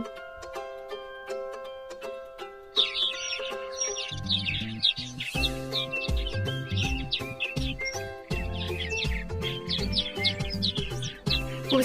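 Swallows twitter in quick, busy bursts over a background of rhythmic music, the chirps fairly close and continuing throughout.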